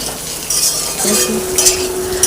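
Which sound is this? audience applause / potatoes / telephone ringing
potatoes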